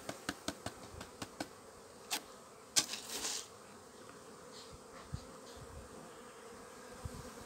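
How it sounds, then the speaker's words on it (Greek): Honeybees hum in an opened beehive, a faint steady buzz close by, broken by several sharp wooden taps and clicks from the hive frames. "Μελίσσι."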